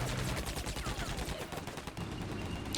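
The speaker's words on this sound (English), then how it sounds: "a Leopard fires towards the Soviets to pin any infantry" Leopard tank firing in the Combat Mission Cold War video game toward Soviet positions, with a dense run of loud, rapid gunshot bursts, many close-spaced blasts over the whole stretch and no talk.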